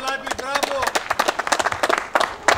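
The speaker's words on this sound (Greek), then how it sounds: "Έφαγε και το χειροκρότημα." Audience applause at an outdoor festival in Alexandria: scattered rhythmic clapping from a crowd, fairly near and steady, mixed with shouting voices and talk.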